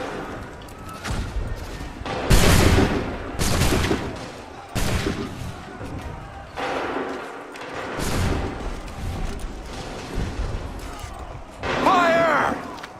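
Gunfire volleys from a line of soldiers in Assassin's Creed 3, sounding as several loud bursts spread across the clip, mixed with shouted commands and game noise.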